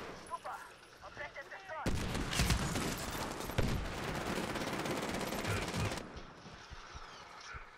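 Shotgun and other gunfire in the video game Medal of Honor Warfighter: a dense, loud burst of rapid shots fills the middle four seconds, with quieter game sounds before and after and a voice talking underneath.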